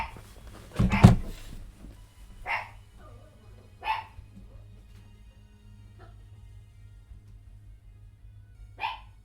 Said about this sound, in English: I have a dog going crazy.